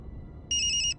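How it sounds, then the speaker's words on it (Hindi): A mobile phone rings with a bright electronic tone, a short steady burst of repeated pulses that starts abruptly and stops after about half a second, over a quiet low room hum with no talking. "आपके फोन बाज रहल बा"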